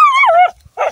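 Sheepdog on a sheep farm giving a short, loud, close bark with a falling yelp, followed after a brief pause by a second rougher bark.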